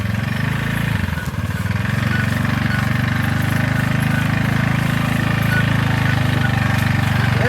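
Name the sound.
motorcycle engine running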